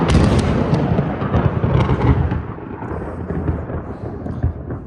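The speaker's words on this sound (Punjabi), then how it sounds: "ਬਿਜਲੀ ਗਰੀਏ ਕਿਤੇ ਬਾਈ ਬਹੁਤ ਖੜਕਾ ਹੋਇਆ ਦੇਖੋ" Thunder crashes during a stormy night of rain and lightning over a village, a dense, loud rumbling roar that rolls on continuously for several seconds with no voices.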